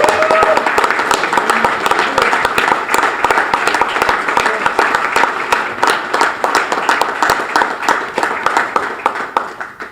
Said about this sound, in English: Can we give him a standing ovation?